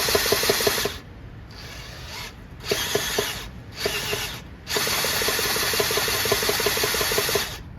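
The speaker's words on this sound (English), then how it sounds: "It's a little easier with the drill." Power drill turning over the crankshaft of a Briggs & Stratton 14hp Synchro Balancer engine with a shredded bearing sleeve, a loud ratcheting, rasping mechanical whir in several bursts, ending in one long steady run.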